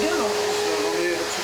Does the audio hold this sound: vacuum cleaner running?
yes